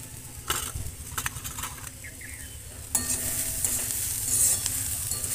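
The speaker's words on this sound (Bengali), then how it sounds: "আমার পেঁয়াজ, কাঁচা লঙ্কা, রসুন, আদা, ওগুলো একটু হালকা হালকা ভাজা হয়ে গেছে।" Onion, green chili, garlic, ginger and carrot fry in a pan, hissing with a close, steady sizzle while a utensil stirs and scrapes against the metal, growing louder partway through.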